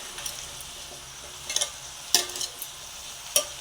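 Vegetables are sautéed in a pan for a valai karuvadu dry fish curry, a faint low sizzle broken by a few sharp scrapes and clicks of a spatula stirring the pan.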